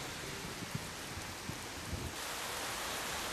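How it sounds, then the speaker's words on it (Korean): Summer monsoon rain falling on a stream, a dense, steady hiss of rain and water with a few soft drops and splashes, continuous and fairly even. "백곡천에 다시 장맛비가 내리기 시작했다."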